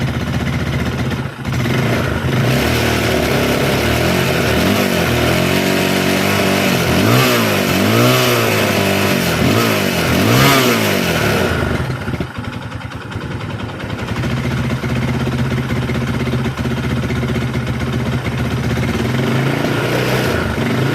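A Yamaha Scorpio motorcycle with a sputtering, misfiring engine revs up and down in repeated rising bursts, then drops back to an uneven, stumbling idle, loud and close with no talking.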